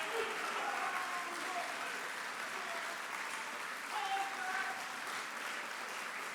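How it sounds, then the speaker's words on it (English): Audience applause at a Memorial Day event at the Nixon Library, a full, even crowd clapping that holds steady and fairly loud, with faint voices mixed in. "We'll see if you clap like that when I get done"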